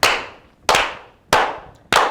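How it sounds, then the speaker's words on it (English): Four slow, loud, evenly spaced claps, each ringing out briefly before the next, played alone as a tribute to a brother who has passed away. "Can we slow clap the brother out, man?"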